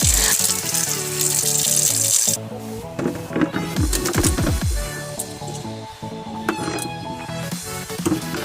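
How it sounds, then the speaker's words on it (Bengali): Drinking water being drawn from a household tap in the morning, a steady running-water wash with clinks and rubbing of vessels, then brief pouring bursts and handling noises close by, with no talk. "প্রতিদিনের মতো আমি সকালবেলা খাবার জল তুলে নিচ্ছি"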